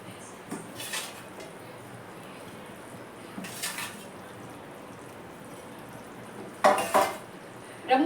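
Rock fish pieces go into a pan of simmering curry, giving a few separate soft clatters and splashy knocks over a steady low cooking hiss, each brief and close.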